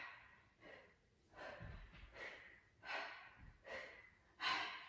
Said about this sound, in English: Make sure you're breathing in and out.